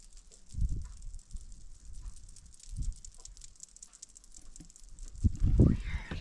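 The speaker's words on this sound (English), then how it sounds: "It's insects. Yeah. Listen to that." Insects drone in a steady high-pitched hum on a remote hiking trail in southwestern Utah, faint but continuous, with soft low thumps and movement underneath.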